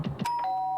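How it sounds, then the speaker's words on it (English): A doorbell chimes in the Danganronpa: Trigger Happy Havoc video game, a clear electronic ding that rings out and sustains with a steady tone after a couple of brief soft sounds. "It's the doorbell."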